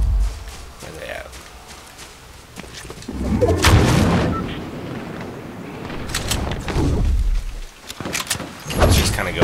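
Gunfire in a competitive shooter video game: bursts of shots and booming hits rise and fall in the middle distance, heavily overlapped by players talking throughout.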